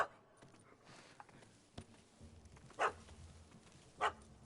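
A dog in The Witcher 3 video game gives two short sharp barks a little over a second apart, with faint game ambience beneath and no talking.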